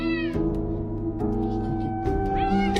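Cat meowing close by in a home, three or four distinct drawn-out meows with rising and falling pitch spread across a few seconds, mixed with faint background noises.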